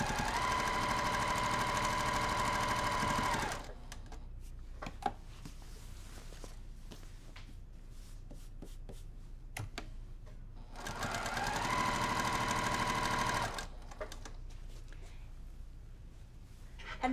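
A sewing machine stitches a quilt backing label in two loud, steady runs of rapid whirring, each lasting a few seconds. Between them come quiet gaps filled with small handling clicks and rustles.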